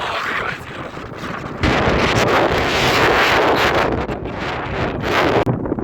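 Loud, steady wind roaring and buffeting against the microphone, gusting harder after a couple of seconds and staying strong until a sudden dip near the end.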